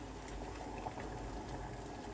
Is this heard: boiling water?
yes